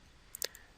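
A few quick, close computer mouse clicks, one tiny tap then a tight double click, against a quiet background while furniture blocks are moved around in AutoCAD drafting software.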